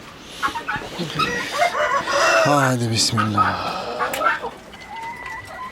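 A flock of chickens clucks around a farmyard, mixing new birds into a large flock, with a pony nearby. Close clucking and harmonic calls, loudest midway, with people talking over them.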